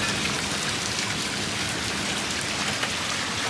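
Steady rain falls outdoors, a dense, even hiss of drops spattering on surfaces that holds at a constant level throughout with no voices.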